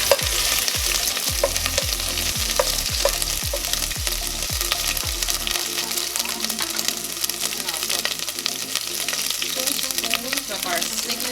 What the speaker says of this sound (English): I'm gonna fry this up for a little bit.